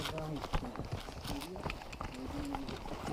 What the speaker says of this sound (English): The horses know where they're going, so we'll follow them.